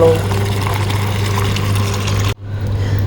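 Tap water runs steadily while filling up to wash a dog's feet. The rushing flow is loud and continuous over a low hum, then cuts off abruptly near the end, leaving quieter background noise.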